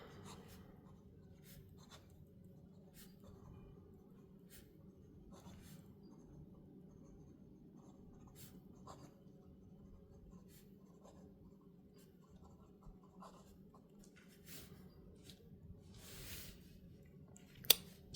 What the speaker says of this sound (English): Let me do a quick writing sample